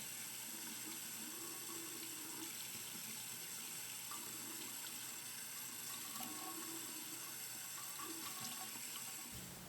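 Steady water from a tap runs and splashes over a forearm and hands during ritual ablution (wudu), a continuous close hiss with no talking.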